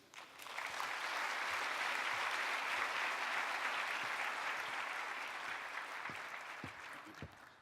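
Sustained audience applause welcoming Yale lecturer BJ Casey at a talk, a dense steady wash of clapping from a crowd that swells in and holds for several seconds before tapering slightly.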